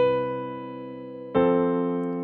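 Sustained harmony example with a plain passing tone: a soft held chord that shifts to a new sounding chord about halfway, quiet and alone with no talk.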